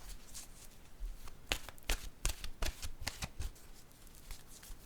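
Oracle cards shuffled by hand, a close run of crisp riffling and flicking bursts in an uneven rhythm with no talking.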